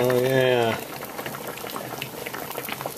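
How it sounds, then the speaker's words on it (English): Peppers and tomatoes boiling in a kitchen pot, a steady low bubbling that carries on after a short tonal beep at the start, with some speech in the background. "the peppers and tomatoes are still boiling there"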